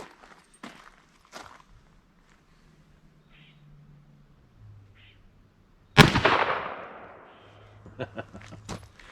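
Several gunshots from a Savage 42 takedown over/under rifle in .22 WMR and .410, with a few sharp cracks early and one loud blast ringing out midway, then quieter follow-up pops and a low background hum.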